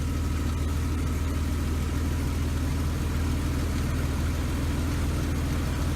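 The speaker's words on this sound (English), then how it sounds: "Now it's going to test it at idle with no loads on the motor." A car engine idles steadily with no electrical loads switched on during a battery test, a constant low rumble that holds even and unbroken throughout, close by with no talking.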